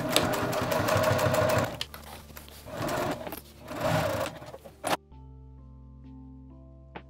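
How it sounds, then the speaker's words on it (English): A sewing machine stitching fabric 3/8 inch from the edge while making a double zipper pouch with a clear vinyl pocket. It runs in steady, close whirring bursts for about five seconds, then stops abruptly, giving way to soft sustained musical tones. "I'm gonna take it to the sewing machine and stitch at 3/8 inch in from the edge, down, across, up, leaving the top open."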